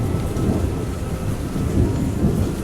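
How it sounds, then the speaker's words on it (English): Thunder rolls low and heavy through a steady downpour drumming on and around a tent in the Pyrenees mountains, a continuous close wash of rain with deep rumbling swells. "Often there's a storm, so I listen and I enjoy."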